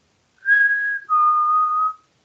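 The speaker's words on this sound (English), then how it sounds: "Well, I'm going to whistle." A person whistles two clear, sustained notes, the second slightly lower than the first, each about half a second long. The whistling is close and fairly loud against silence, with no talk.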